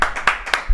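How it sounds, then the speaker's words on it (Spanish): A few quick hand claps ring out close by, sharp separate slaps spaced roughly a quarter second apart, as brief applause in a studio setting. "¡Aplauso, producción!"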